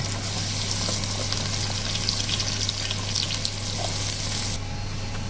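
Onions frying in hot ghee make a dense, close, steady sizzle with a constant low hum underneath, dropping slightly in intensity near the end, with no one speaking.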